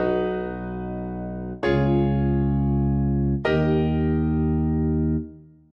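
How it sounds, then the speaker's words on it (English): Three sustained chords form the Mario cadence from the Super Mario Galaxy theme. Each full, rich chord rings for nearly two seconds before the next one enters, and the last fades out. "If the previously mentioned three chords are played in the reverse order to how they appear in the Super Mario Galaxy theme, the Mario cadence is formed"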